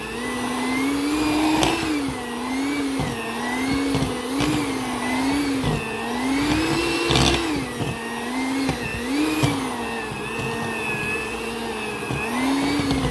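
An electric mixer whirs steadily through butterscotch bar batter with pounded nuts, a loud close motor whine whose pitch wavers up and down as the beaters work, with no talking.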